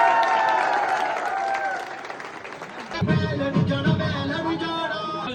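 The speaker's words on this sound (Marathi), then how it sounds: "शुभांगी ताईसाठी एक वेळेस जोरदार टाळ्या." Steady, loud applause and crowd noise fill a free-gift distribution event as the audience claps for Shubhangi, with voices mixed into the dense clapping throughout.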